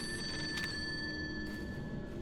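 Old telephone ringing in the horror game Project Zero: Maiden of Black Water, a steady shrill electronic ring sounding continuously and fairly loud throughout, with no voices.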